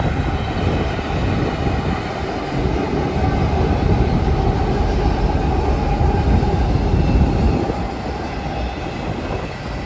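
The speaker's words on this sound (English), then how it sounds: "we caught a Southern Pacific AC-44CW trailing on a Union Pacific auto rack and intermodal train" A Union Pacific auto rack and intermodal freight train with a trailing Southern Pacific AC-44CW locomotive rolls past close and loud, a steady roar of wheels and rail noise sustained throughout.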